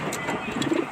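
Pigeons in a loft give soft, low cooing close by in a brief, muffled burst.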